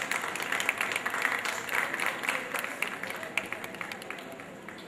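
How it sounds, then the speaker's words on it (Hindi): Crowd applause at a Shravan festival concert in the Mahakaleshwar temple, a dense, moderately distant patter of many hands that swells and fades slightly without any break. "तालियों की गूंज और अनुगूंज जारी रहनी चाहिए"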